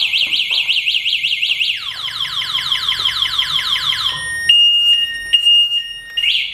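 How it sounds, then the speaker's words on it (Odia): An electric scooter's anti-theft alarm blares loudly, cycling through rapid warbling siren tones, then descending sweeps, then steady beeping chirps, close by and with no talk over it. "ଯଦି ଗାଡ଼ିରେ କିଏ ଲାଗୁଛି ଆପଣ ଗାଡ଼ି ବିପ୍ ଦେବ"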